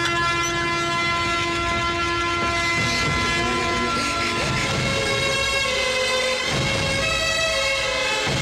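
Train horn blaring loud and sustained as a train rolls past close by, with rumbling wheels underneath and faint voices in the mix.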